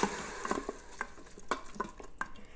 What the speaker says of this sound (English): I'm just going to give that a little stir around.